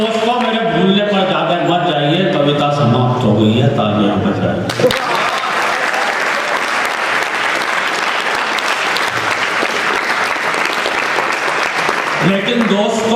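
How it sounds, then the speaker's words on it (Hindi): A poetry-reading audience breaks into loud, sustained applause after a poem ends, a dense wash of clapping lasting several seconds, with a voice speaking before and after it. "कविता समाप्त हो गई है, तालियां बजाइए।"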